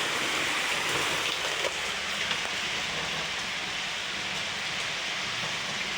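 Steady rain pours down, a dense continuous hiss with occasional sharper drops, fairly close and unbroken throughout.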